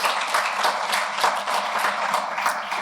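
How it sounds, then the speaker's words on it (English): Delegates at a gathering applaud together, a steady sustained patter of many hands clapping at moderate loudness, with no talk over it. "I think you can give you all a round of applause."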